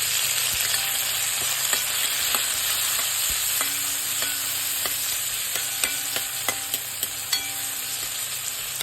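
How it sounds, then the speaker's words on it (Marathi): Tomato goes into browned onion frying in a pan, and the oil sizzles steadily and close up, with scattered pops and crackles throughout and no voices. "कांदा आपला लालसर झालेला आहे, त्याच्यामध्ये आपल्याला टोमॅटो टाकायचा।"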